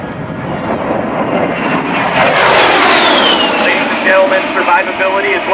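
A military jet makes a high-speed pass at an Andrews AFB air show, its loud roar building and sweeping past with a falling whine while an announcer talks over the noise.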